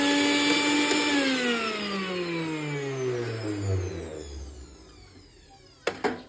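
A high-pitched mixer grinder motor whine steadily drops in pitch as it spins down, followed by two sharp clicks.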